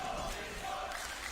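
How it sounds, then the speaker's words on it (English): Esports arena crowd at Dota 2's The International 2022 main event, a dense, steady roar of cheering and shouting that fills the space evenly for just over a second. "Oh, the crowd's starting to get into it a little bit here."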